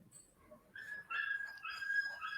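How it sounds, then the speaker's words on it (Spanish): A small pet dog whimpers and cries close by, faint thin whines that rise into a sustained high plaintive whine over the last second and a half, with no talking. "Espérate que mi perrito está llorando para que lo consienta."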